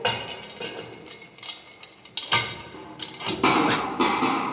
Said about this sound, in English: then repeat the steps to install another stair clamp and the post